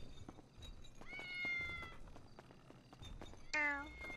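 Cats meow repeatedly inside GTA 5 roleplay, with a drawn-out meow midway and a louder, sharper one near the end, over soft game clatter and faint background noise.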